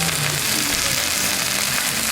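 Spinach sizzling and frying on a hot plancha griddle, a dense, continuous, close crackling hiss with no talking.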